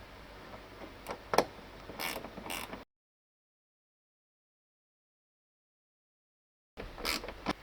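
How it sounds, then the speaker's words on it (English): A gear wrench ratchets on a tailgate gas strut bolt of a Subaru WRX, with brief clicking and creaking bursts, then a long stretch of silence, then another short burst of ratcheting, close and fairly quiet. "And now I'm going to use the other end of my gear wrench."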